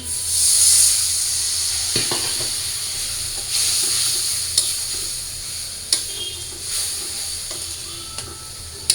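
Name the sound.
spices and potatoes frying in pan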